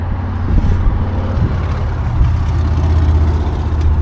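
A Seat car engine idling, a steady loud low rumble with a constant throb that holds evenly throughout, close by with no talking.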